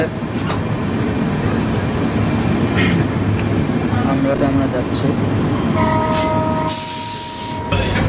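Steady rumble and rattle of a moving passenger train, express 13150 from Siliguri Junction to Sealdah, heard from inside a coach, continuous and close, with a few short tonal squeals near the end and someone speaking briefly.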